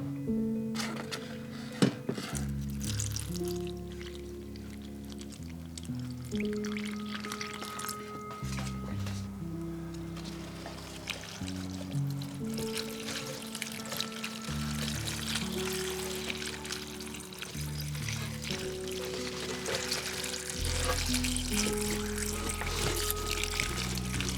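Water pours from a watering can onto potted houseplants, some overwatered and some badly underwatered, in a steady splashing trickle with occasional drips, moderately close and continuing throughout without talk.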